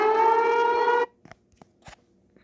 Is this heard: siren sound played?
yes